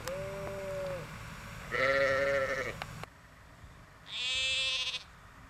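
Two ewe bleats, each about a second long, one at normal distance and a later higher, brighter one, with quiet outdoor background between.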